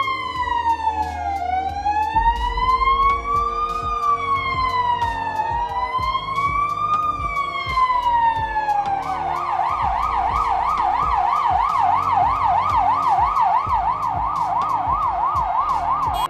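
A loud ambulance siren wails up and down in long sweeps, then switches to a rapid warbling yelp, with city traffic, including a tram, rumbling underneath.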